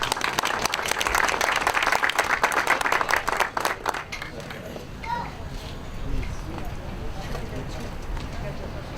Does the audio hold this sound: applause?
yes